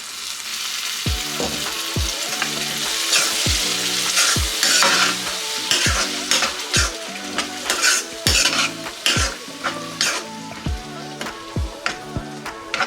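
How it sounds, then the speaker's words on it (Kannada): Okra frying with curd in a pan over a low flame, with a steady sizzle under repeated rhythmic stirring and scraping of a utensil against the pan, close and fairly loud. "ಲೋ ಫ್ಲೇಮಲ್ಲೇ ಫ್ರೈ ಮಾಡ್ಕೋಬೇಕು"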